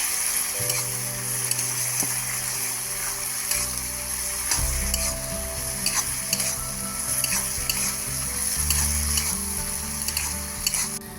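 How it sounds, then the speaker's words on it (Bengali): Cauliflower chili with tomato sauce stirred in a hot frying pan, a loud continuous sizzle with scraping spatula strokes against the pan and occasional clinks, close and steady. "সব কিছু দিয়ে আমি ভালোভাবে এটাকে নেড়ে নেব।"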